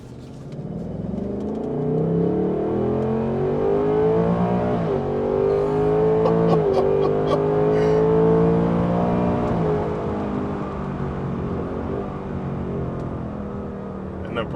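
A 2024 Ford Mustang GT in sport mode accelerates on a road, its engine note rising steadily and holding a loud, continuous drone from inside the car for over ten seconds.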